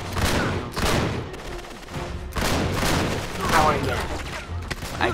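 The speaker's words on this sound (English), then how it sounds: "Shotgun." Shotgun blasts in the video game Uncharted 3: Drake's Deception, loud booming shots amid dense, continuous gunfire and explosions from a chaotic firefight, with a voice talking over parts of it.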